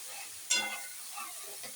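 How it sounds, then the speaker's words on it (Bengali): A paste of ground onion, garlic, cumin, turmeric and chili stirred and sautéed in a pan, with a soft sizzle that flares briefly as the spoon moves, then settles into a low hiss with faint scraping. "পেঁয়াজ বাটা, রসুন বাটা, জিরা দিনা বাটা, সব হলুদ মরিচ দিয়ে এখন এটা সুন্দর কষাই নেই।"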